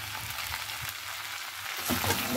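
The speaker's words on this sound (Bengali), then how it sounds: "এবার এটাকে ভালো করে আমি এগুলো কষবো।" Fish heads, turmeric and ghee-fried Gobindobhog rice sautéing together in a pan for muri ghonto, giving a steady moderate sizzle that grows louder and busier near the end, with no talk over it.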